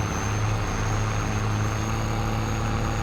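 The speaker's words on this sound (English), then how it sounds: "It sounds really good. Apparently it's actual sound of the tractor." International 1255 tractor engine in Farming Simulator 22, a steady low diesel drone with a constant droning hum, sustained and close without pauses or speech.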